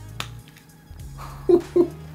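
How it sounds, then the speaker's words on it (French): Fingers snap near and dry: one sharp crack early on, then two quick, louder snaps close together toward the end, each standing alone over a quiet room. "Je claque des doigts"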